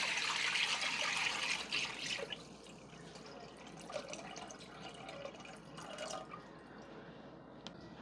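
Chicken broth poured from a pot into a clean pot, with a trickling, splashing stream loudest at the start that thins to softer drips and dribbles and a few small clinks.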